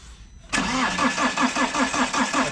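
A diesel car with a weak, run-down battery starts with a sudden onset, then cranks slowly in an even, regular chugging rhythm that stays loud and close without catching.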